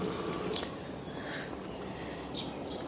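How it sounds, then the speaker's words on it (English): Running tap water at a sink while hands are washed, a steady broadband rush throughout, fairly close, with faint bird calls in the background. "Wash my hands first"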